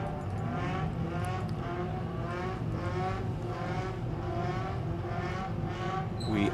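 Several race cars, among them a Renault Clio, accelerate hard off the start line at Winton in a grassroots endurance race, a loud sustained engine roar with rising revs from many cars at once.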